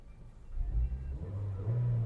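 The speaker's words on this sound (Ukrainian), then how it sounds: "Двигун працює чітко, помилок немає." An Opel Zafira engine with 182,000 km rumbles low and steady close by, its idle swelling slightly as it runs for a couple of seconds.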